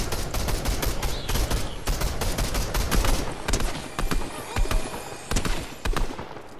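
Fortnite duos match gunfire: loud, close, rapid bursts of automatic shots and single cracks, almost continuous and thinning out toward the end.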